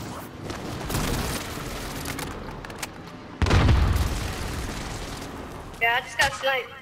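Airstrike explosions in Call of Duty: Modern Warfare, a deep booming blast rolling in mid-clip after earlier rumbling impacts, with chatter and a short burst of voices near the end.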